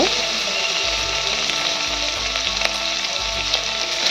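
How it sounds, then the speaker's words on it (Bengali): Paneer cubes dusted with a little turmeric fry lightly in a pan, giving a loud, continuous close sizzle with faint crackle throughout and no voices over it. "হালকা করে ভেজে নিয়েছি, আমি তুলে নেব।"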